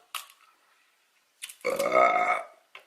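Single loud, drawn-out burp from a woman, close and croaky, preceded by a couple of short clicks and a small gulp, with near silence before it.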